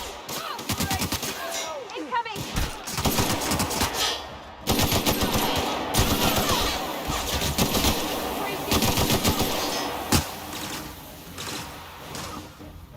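Rapid automatic gunfire from the sci-fi video game The Outer Worlds, dense bursts of loud shots rattling almost continuously over several seconds, with a voice talking underneath in places.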